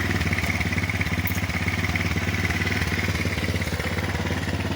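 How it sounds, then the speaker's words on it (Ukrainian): A 200cc quad bike ATV engine idles steadily up close, its even, rapid thumping putter running unbroken with no voices. "І він почав запускатися от собі на холостих."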